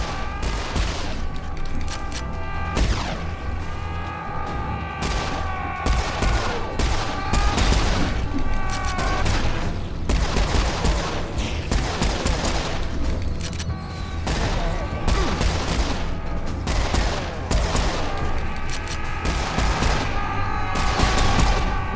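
Assault rifle fire in the video game Serious Sam 4 crackles in repeated loud bursts over a dense battle din of booms and sustained tones, with a voice speaking intermittently underneath.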